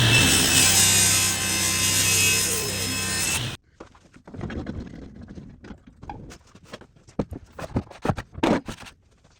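A power saw cuts the edge off a wooden board for a simple miter box, a loud, steady whine for about three and a half seconds, then scattered knocks and clatter of wood being handled nearby.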